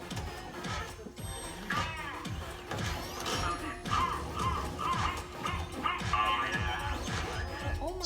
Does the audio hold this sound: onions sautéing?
no